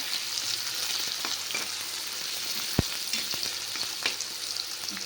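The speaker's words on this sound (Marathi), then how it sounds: "हा कांदा चांगला परतून घ्यायचा आहे" Onions sizzling steadily in a hot pan, a continuous close frying hiss with occasional sharp clicks and stirring taps, no voices.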